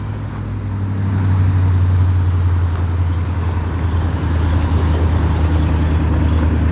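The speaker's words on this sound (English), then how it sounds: "I'm in a little market area, so that's why you guys hear a lot of traffic and stuff and people coming by here" Street traffic in a small market area, with a vehicle engine rumbling close and steadily and building slightly in loudness, and no clear voices.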